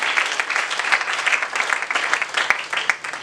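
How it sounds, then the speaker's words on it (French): A church congregation applauds during French-language worship, with sustained clapping from a crowd that swells and dips, plus a couple of sharp pops near the end. "Acclamons pour le Seigneur."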